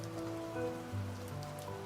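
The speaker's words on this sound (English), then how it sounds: "I have no idea What's gonna happen if it keeps raining?" Steady rain falling in a storm over a flooded part of New York, a continuous dense patter of drops at even loudness with a low tonal drone underneath, no voices.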